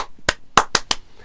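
A wrestling crowd claps in a few quick, sharp bursts, four or five distinct claps close together in just over a second.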